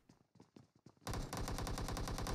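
Sustained automatic gunfire in a shooter video game suddenly erupts after a few scattered quieter shots, a loud, steady rapid rattle filling the rest of the moment.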